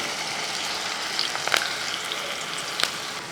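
Potato snack pieces frying in hot oil, a steady close sizzle with a few brighter crackles and spatters scattered through.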